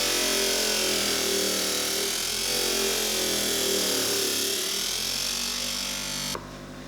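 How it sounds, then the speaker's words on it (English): A homemade half-horsepower double disc sander runs steadily with a loud, even motor whine and sanding hiss that holds constant before dropping off abruptly near the end. "this is actually the first time I'm using a disc sander"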